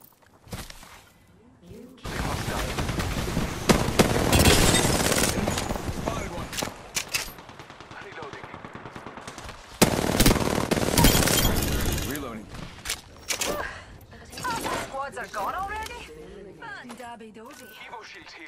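Gunfire in the battle royale video game Apex Legends, with dense bursts of rapid shots and impacts, loud and close, in two main volleys followed by scattered lighter game sounds.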